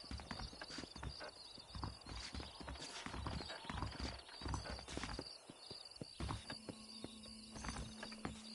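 Horses in the video game Red Dead Redemption clop along in continuous hoofbeats with occasional snorts, close and clear amid game ambience.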